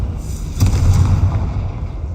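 A Confringo fire spell in Hogwarts Legacy bursts with a loud, close, low booming explosion that rumbles briefly and fades against background game ambience.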